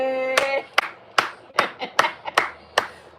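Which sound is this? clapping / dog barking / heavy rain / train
clapping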